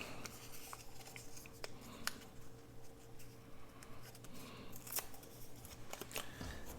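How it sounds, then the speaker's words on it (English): A small piece of book-page paper is torn by hand, faint, soft crackling and tearing close by with scattered light clicks over a low background hum. "we could just tear a little piece of this and let that be our little pull"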